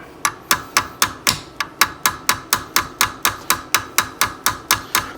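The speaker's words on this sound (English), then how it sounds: "I know I'm using a brass hammer and hitting this" Brass hammer tapping on a SAR USA pistol during reduced power spring kit installation, about twenty sharp, evenly spaced metallic taps in a steady rhythm, close and loud, with no voices.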